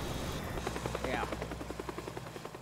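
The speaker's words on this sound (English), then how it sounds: "Yeah, there's the helicopter." A helicopter in the video game Teardown, its rotor thudding in a fast, regular chop at moderate loudness over a low drone, with a voice briefly mixed in.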